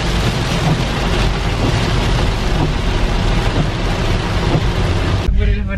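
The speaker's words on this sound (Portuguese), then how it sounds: "meu Deus, a chuva. Ó a chuva." Heavy rain falls steadily in an outdoor setting, a dense, loud wash of noise that fills nearly six seconds before cutting off abruptly near the end.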